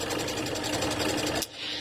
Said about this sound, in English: I'm just going to sew down both sides